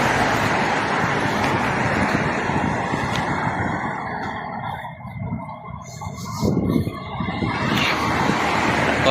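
Continuous roar of road traffic, cars passing close by with a steady broadband rush and a brief swell of a nearer vehicle toward the end.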